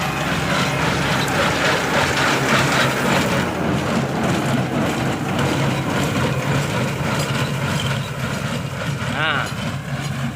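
A Kubota hay baler runs steadily with a continuous mechanical clatter and rhythmic rattling, loud and close throughout.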